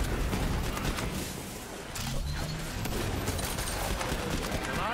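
Explosions and gunfire in Borderlands 3 fill the scene with a dense, continuous barrage of blasts and rapid shots, loud and unbroken throughout, with a brief dip in intensity midway.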